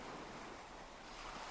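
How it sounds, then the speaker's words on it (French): Ocean waves wash in a soft, continuous hiss of surf, faint and distant with a breath of wind across it, no voices. "Vous entendez toujours le son des vagues"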